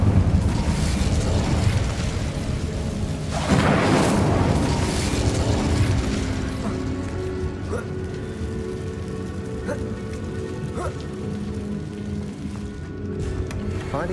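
A cast Incendio fire spell in the Hogwarts Legacy video game erupts as a loud roaring burst partway through, then fades into a low rumble while soft, sustained game music tones continue.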